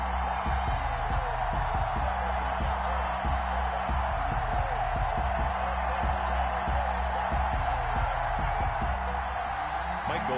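A dense, steady stadium crowd roar fills an EA Sports NFL video game before a Colts versus Seahawks kickoff, holding at an even level throughout with a broad wash of murmuring voices and no distinct cheers.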